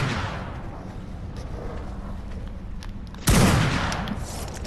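A single loud, close gunshot from ARK Survival Evolved cracks out of a steady low rumble of ambient cave noise, its tail ringing briefly afterward.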